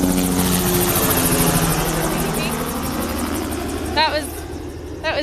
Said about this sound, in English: That was DEP doing a flyover. DEP takes helicopters up in the air to do lots of different surveys and things.